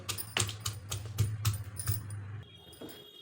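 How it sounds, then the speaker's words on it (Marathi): Ginger and cumin being crushed by hand into a thecha paste in a home kitchen, heard as a run of sharp, uneven pounding knocks close by over a steady low hum, quieter near the end. "हे आलं घेतलं आहे दोन इंच आणि जिरं घालायचं आता ह्याचा ठेचा बनवून घ्यायचा आहे"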